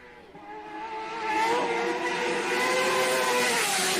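A race motorcycle at the Isle of Man TT, reaching about 207 mph down the high street. Its engine note climbs and swells to a loud, sustained whine that holds steady to the end.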